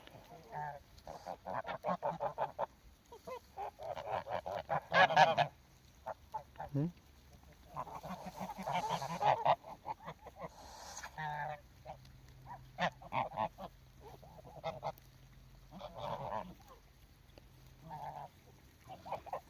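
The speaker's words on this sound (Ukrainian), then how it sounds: "Гуськи, гуськи, гусяри." Domestic geese grazing in a yard honk in short repeated bursts, several birds calling close by with brief pauses between volleys.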